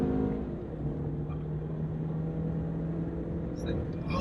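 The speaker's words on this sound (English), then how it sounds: "Now if I bury the throttle here, I will be able to overtake another van." A 2018 Ford S-Max EcoBoost pulls hard under full throttle to overtake, its engine a steady, sustained drone mixed with road and cabin noise from inside the car.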